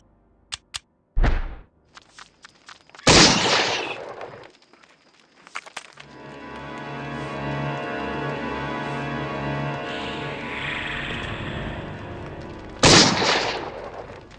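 Pistol shots in the horror game Eternal Darkness, several sharp loud cracks spaced apart with short silences between, a sustained mechanical drone in the middle, and one final shot at the end.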